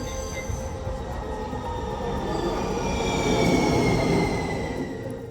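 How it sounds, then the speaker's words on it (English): Houston Metro Rail light rail train in motion, a steady loud rumble of wheels on track with a rising metallic whine and faint squeal building toward the middle, heard from inside the car. "My day starts with a quick 10-minute ride on the Houston Metro Rail."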